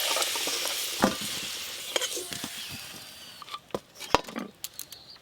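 Onions frying in a pan of oil, cooked down until reddish-brown and crisp, give a soft sizzle broken by sharp stirring scrapes and clicks near the mic, settling into quieter, sparser crackles.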